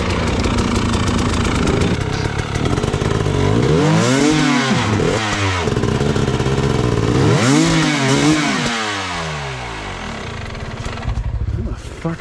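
A motorcycle on rocky terrain revs hard and loud, its engine spinning up and bogging in repeated surges before settling to a rough idle.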